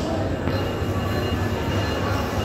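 Train waiting at a station at night on the Dhaka to Sylhet route, a constant loud low rumble and hum of the carriages and engine with no talk.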